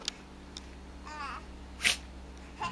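A husky dog gives one short, sharp sneeze amid quiet surroundings, with faint child babbling just before it and soft rustling around it.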